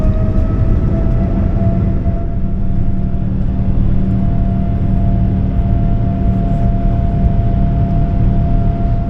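A Boeing 787 Dreamliner takes off from Heathrow at night, heard from inside the cabin as a loud, steady low roar of engines and rumble, constant throughout without talk.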